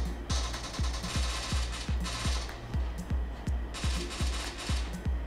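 Gunfire in a mobile shooting game, played on an Oppo Reno 5 phone, comes as rapid, evenly spaced shots with punchy low thumps, fired in bursts over a continuous background of game sound.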